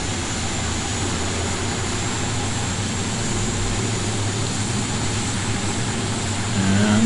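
An aircraft engine drones steadily and loudly during a takeoff roll on the flight to Syangboche, a continuous broadband roar that builds slightly toward the end.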